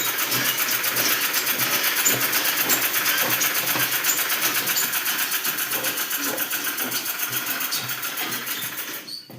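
A sewing machine runs steadily while stitching the front panel of a blouse, a continuous close mechanical whir that holds for about nine seconds before cutting off.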